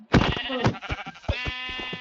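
Minecraft sheep bleating from the video game, several short wavering baas in a row, close and clear with no talk over them.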